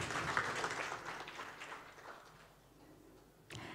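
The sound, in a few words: audience applause at a meeting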